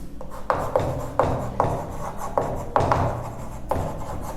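Chalk or marker scratching across a board during a maths lecture, a run of short rasping strokes with sharp onsets, close and steady, with no talking.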